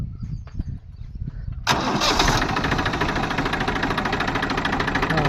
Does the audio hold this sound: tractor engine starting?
yes